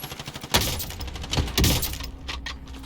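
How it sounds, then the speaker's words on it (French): Gunfire and sniper shots in the video game Warzone crack out in two sharp bursts amid scattered clicks and rattles, loud and close. "Oh, je me fais tirer, je me fais sniper."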